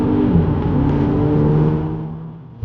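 A Hyundai Elantra N Line engine revs loudly with a rising, steady drone that eases off toward the end.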